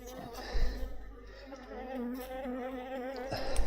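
Honeybees buzz around a beehive close by, a continuous wavering drone with several overlapping tones that rises and falls, plus a few soft knocks.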